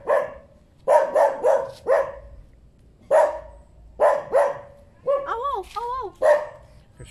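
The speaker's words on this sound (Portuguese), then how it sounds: "Cachorrinho está a ladrar, hein?" A small dog barks repeatedly at close range outdoors in the Philippines, with sharp yaps in short bursts and pauses between them and a brief whining, yelping run near the end.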